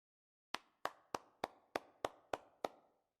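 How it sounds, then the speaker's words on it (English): Slow clapping rings out as an applause effect in the Ace Attorney Spirit of Justice video game: eight sharp, evenly spaced claps, crisp and isolated against silence. "Someone's giving us a round of applause."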